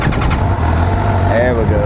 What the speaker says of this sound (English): Need to pull the clutch in and crank it